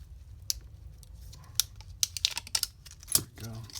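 Small cutters snip through battery packaging for a 2S 1000mAh pack, giving scattered crisp clicks and plastic crinkles at close range, all quiet, with faint background noise between the cuts.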